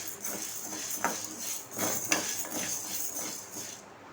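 Urad dal dry-roasting in a pan for idli podi gives a soft continuous hiss with occasional light scrapes and clinks of a spoon against the metal, quiet and close.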